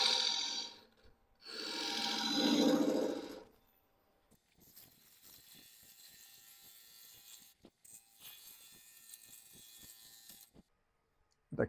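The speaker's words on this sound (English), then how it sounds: "A little bit of sanding there, and we're all set." Loud whirring bursts of a power tool, then a steadier, quieter abrasive hum of sanding on a spalted red oak bowl with faint ticks, stopping abruptly near the end.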